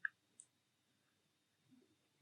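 A computer mouse clicks twice in quick succession, both clicks quiet and crisp against near silence during Blender visual effects work.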